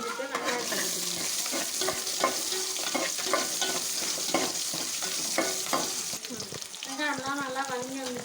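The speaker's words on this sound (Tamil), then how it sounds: "வெந்தயம் கலந்து வந்துட்டு வெங்காயத்தை போட்டுக்கணும்." Onions and fenugreek fry in oil for a fish curry, a continuous sizzle broken by repeated stirring scrapes. Near the end a voice hums or sings softly over the cooking.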